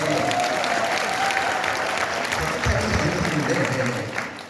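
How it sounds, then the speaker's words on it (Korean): A seminar audience claps at a business presentation, with steady, loud, continuous applause that fills the space and tapers off at the end. Indistinct crowd noise rides along underneath. "박수 치실 거 확실하게 치셔도 됩니다"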